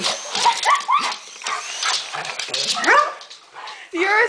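A dog yips, whimpers and gives short barks in quick bursts near a passing helicopter, the whiny cries rising and falling close by with people talking around it.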